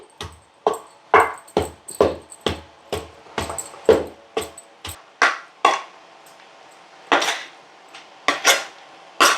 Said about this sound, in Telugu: ఇలా మెత్తగా అయ్యే వరకు దంచుకోవాలండి